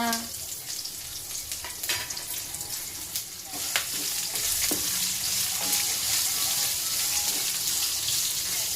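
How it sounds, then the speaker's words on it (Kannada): Onions frying on a low flame in a pan for a village-style sambar, a steady crackling sizzle with scattered clinks and stirring clatter up close, growing fuller after the first few seconds. "ಲೋ ಫ್ಲೇಮಲ್ಲಿ ಫ್ರೈ ಮಾಡ್ಕೊಬೇಕು ಮತ್ತು ಈಗ ಈರುಳ್ಳಿ ಹಾಕೋಣ"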